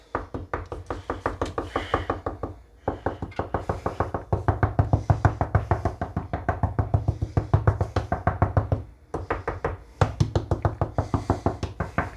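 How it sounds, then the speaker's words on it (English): Rapid, steady knocking on a loose countertop, sharp percussive raps repeating in dense runs with brief pauses between bursts, close and fairly loud with no talking. "let's give it a little knock"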